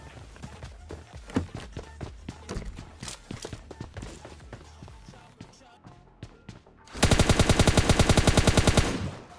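Enemy footsteps in PUBG Mobile Lite, a run of distinct close thuds at an irregular walking pace, followed by a loud, rapid burst of automatic gunfire near the end.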